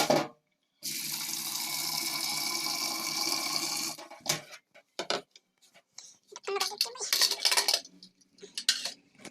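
Water runs and splashes into a pot of potatoes in a home kitchen, a steady pour for a few seconds, then clattering and knocking of pots and utensils close by.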